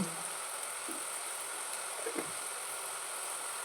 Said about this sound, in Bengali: এই সময় আমি একটু মেথি ফোড়ন দেব